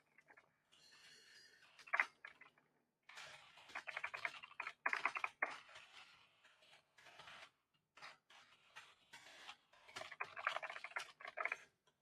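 A computer keyboard clacks in irregular bursts of quick keystrokes as text is typed into a prompt, fairly close, with short pauses between runs.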